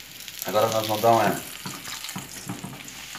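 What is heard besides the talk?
mortadella omelette egg frying in a pan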